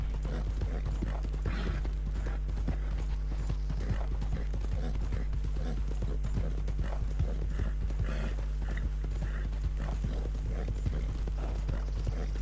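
Horse galloping in Red Dead Redemption 2, a fast steady clip-clop of hooves running throughout over a constant low rumble of game ambience, with no talking.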